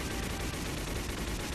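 Dense, continuous gunfire from the space combat game Project Sylpheed, a steady wash of rapid shots and blasts filling the whole short stretch at an even, loud level with no break.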